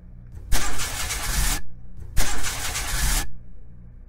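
Two long grinding cranks of a car engine in a video game, each about a second, that never catch, separated by a short pause and ending without the engine running.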